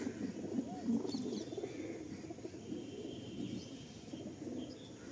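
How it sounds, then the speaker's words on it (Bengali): An Andhra pigeon coos in low, rolling phrases on a dull rainy day, the cooing layered with other pigeons and faint chirps in a continuous, moderately close background. "এটা আন্ধ্রা পায়রা আলিন্দা"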